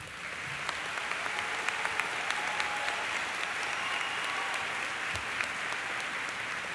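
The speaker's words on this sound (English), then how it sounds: "guests, please join me in a round of applause for our veterans" Sustained applause for veterans at a university nursing commencement ceremony: a large crowd claps evenly and continuously throughout, with scattered sharper claps standing out from the steady roar.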